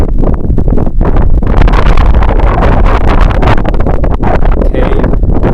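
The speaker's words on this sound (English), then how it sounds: "the wind is coming from the north to the south" Strong wind blowing from the north buffets an outdoor spot near a cave on a rainy day, loud continuous rumbling gusts battering close by, with no voices.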